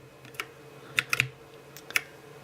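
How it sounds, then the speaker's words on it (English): Keycaps are pushed back onto the switches of a Redragon K556 mechanical keyboard, giving a handful of short, crisp plastic clicks, several in quick pairs, close by in a quiet room. "Just place them back in, push a little bit, place the keycap back over it"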